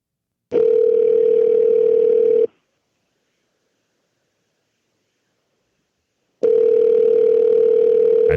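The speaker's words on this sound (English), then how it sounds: "We're going to call the mobile." A telephone ringback tone plays as a steady two-second beep, then silence for about four seconds, then another loud, clear beep.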